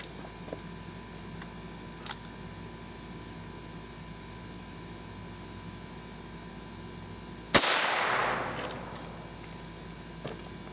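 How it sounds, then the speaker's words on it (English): A single sharp shot from a .22 Long Rifle firing Federal Punch 29-grain nickel-plated ammunition cracks out loud and close, then trails off in a short echoing decay against a quiet outdoor background. "next we're going to try the Federal Punch 22 long rifle"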